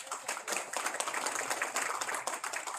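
Audience applauding at a proclamation signing ceremony for Sustainable September 2024 in Guam, a steady wash of many hands clapping alone, fairly faint and continuous throughout.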